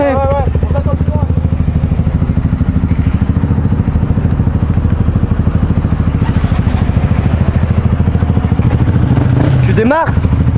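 A motorcycle engine idles and runs steadily at close range, a loud continuous rumble with a rising rev near the end, under occasional voices speaking French.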